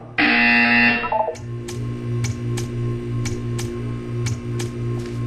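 A loud, harsh buzzer blares for about a second in the Portal 2 video game test chamber, then gives way to a low pulsing hum with faint periodic ticks.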